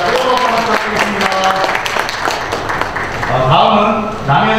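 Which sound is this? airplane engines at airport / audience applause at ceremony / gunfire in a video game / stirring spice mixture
audience applause at ceremony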